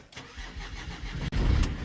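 A delivery vehicle's engine cranks briefly and then catches, rumbling loud and close into a steady idle.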